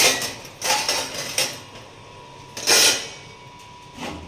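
Jars from a small new mixer grinder are taken out and handled in a kitchen: several sharp clinks and clatters of hard jars knocking together, a louder clanking burst near the end, and quiet gaps between.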